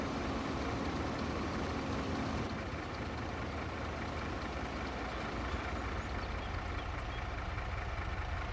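Several truck engines idle together in a farming video game, a steady low rumble with a constant broadband hum that holds throughout, slightly fuller at the start, with no talking.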